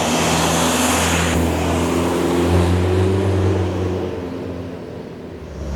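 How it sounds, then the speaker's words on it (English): A small turbocharged car engine revs up and accelerates hard, its loud, rising drone filling the whole stretch before easing off slightly toward the end, with no voices over it. "if you spool up that turbo, this little bugger will take off on you"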